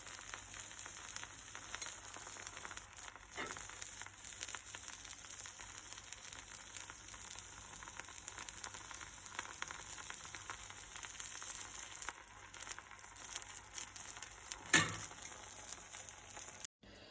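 A small piece of butter sizzles as a Mysore dosa fries on a hot pan, a steady faint crackling hiss throughout with a couple of brief louder pops.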